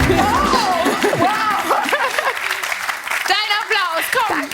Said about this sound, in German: Dein Applaus, komm.